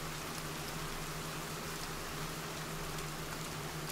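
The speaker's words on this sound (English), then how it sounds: "Hey! Finally! After how long? Rain!" Steady, dense rain falls in the survival video game The Forest, a constant hiss of drops on surfaces with a faint low hum underneath, quiet and without talk.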